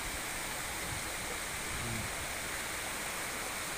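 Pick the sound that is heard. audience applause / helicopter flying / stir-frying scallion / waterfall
waterfall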